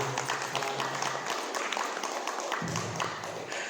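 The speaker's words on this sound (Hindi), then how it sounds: "एक बार ताली होनी चाहिए सबके लिए।" Audience at a Kartik Mahatm katha religious discourse claps together for a few seconds, a dense, fairly loud burst of applause with no clear speech over it.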